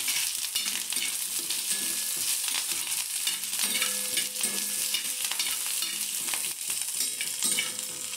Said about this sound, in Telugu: కరివేపాకు, 10 ఎండుమిర్చి వేసుకొని బాగా ఫ్రై చేసుకోవాలి.